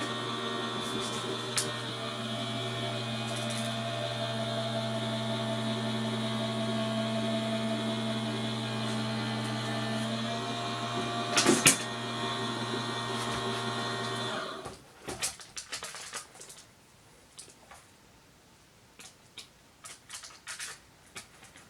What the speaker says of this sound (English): Now let me run it through my cutting die machine and we'll see the results.